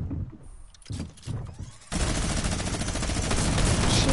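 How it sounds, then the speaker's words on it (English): Sustained rapid minigun fire in the Fortnite video game, a few scattered shots at first, then from about two seconds a loud, dense, unbroken burst that continues to the end. "He has a minigun."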